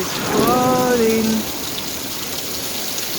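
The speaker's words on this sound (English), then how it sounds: "The rain is falling." Rain falls steadily outdoors near a fruit-laden avocado tree, a continuous hiss of drops on surfaces. A person speaks briefly over it at the start.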